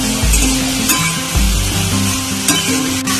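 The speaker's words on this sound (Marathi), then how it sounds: "आता मी सर्व चिरलेले परवळ याच्यात टाकून घेतलेले आता परतून घेऊयाला आपण सर्व" Chopped pointed gourd (parwal) sautéed in a hot pan, giving a steady close sizzle with intermittent stirring and scraping clicks throughout. No one speaks.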